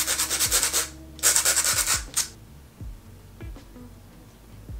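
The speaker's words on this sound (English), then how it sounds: "you could probably sand this down a little bit to smooth things out" Sandpaper rubs back and forth over a painted wood mosaic, two strong bursts of scratchy sanding up close, then quieter handling taps and light knocks as the piece is moved.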